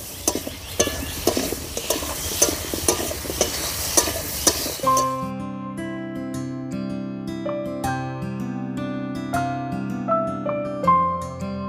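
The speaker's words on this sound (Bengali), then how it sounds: "ভালো করে আমটা ভেজে নেব।" Green mango pieces frying with turmeric in a pan, a dense crackling sizzle with rhythmic stirring scrapes that stops after a few seconds and gives way to music.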